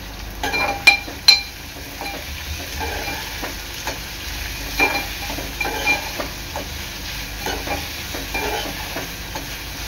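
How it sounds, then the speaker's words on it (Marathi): Onion frying in a pan with salt for a okra stir-fry, a soft continuous sizzle broken by the clinks and scrapes of a spoon stirring the onion, close up. "कांदा चांगला लाल होईपर्यंत शिजवून घ्यायचा आहे"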